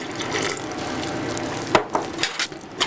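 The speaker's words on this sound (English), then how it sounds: "So here I've got warm water with just a little bit of sunflower oil on the top. So I'm gonna add this to the mix." Warm water with a little sunflower oil on top poured into a dough mix in a galley kitchen, a steady close liquid rush followed by a few splashy drops and knocks at the end.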